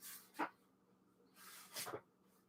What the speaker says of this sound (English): that beagle puppy's out there barking